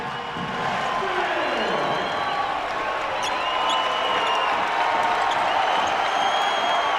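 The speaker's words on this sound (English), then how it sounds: "Now the crowd's into it." A basketball arena crowd at a college game between Duquesne and St. Bonaventure cheers loudly and steadily, a continuous roar with whistles and shouts as a commentator talks over it.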